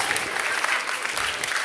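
Applause from an audience at a French physics-and-magic public event, a short dense burst of clapping at moderate level with no voices over it.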